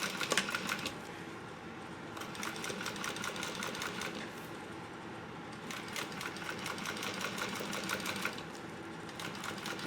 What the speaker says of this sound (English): we're going to top stitch this at 1/8 of an inch seam allowance